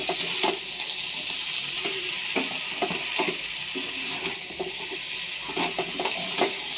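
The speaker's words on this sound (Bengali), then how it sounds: "একটু তেল ছেড়ে আসলেই এতে জল দিয়ে দেব।" A curry sizzles in oil in a pan, a steady bright hiss with intermittent scrapes and clinks of a spoon, close by and without talk.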